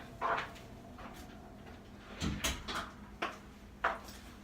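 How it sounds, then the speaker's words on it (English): An indoor door is shut, followed by several soft knocks and clunks of varying strength spread over a few seconds in a quiet room. "let me close this door"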